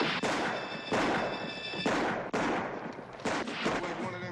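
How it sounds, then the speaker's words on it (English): Gunfire from a western film shootout rings out as heavy cover fire, with loud, dense volleys of shots following one after another almost without pause. "Keep up that cover fire until one of them is right in our lap."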